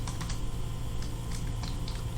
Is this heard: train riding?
no